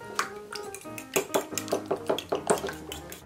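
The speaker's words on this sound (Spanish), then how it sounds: "Con un tenedor vamos batiendo el todo." A fork beating eggs with a pinch of salt and black pepper in a bowl for a ham and cheese omelette, a quick run of close, bright clinks against the dish in an uneven rhythm.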